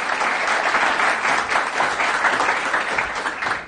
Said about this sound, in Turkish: Alkışlarla Ceyhun ve Irmak'ı davet ediyoruz.